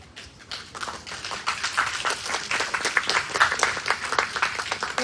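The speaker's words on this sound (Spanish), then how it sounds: "La recibimos con un fuerte aplauso." A seminar audience gives a steady round of applause, the dense clapping building and holding for several seconds with no talk over it.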